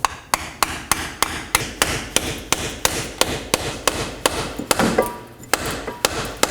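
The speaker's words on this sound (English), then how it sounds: "Now to fully secure it, I'll be using a seal driver and a hammer." A hammer strikes a seal driver to press a new rear axle seal into a 2018-2024 Chevrolet Equinox, with sharp metallic blows in a steady, even rhythm, about three per second, loud and close with no talking.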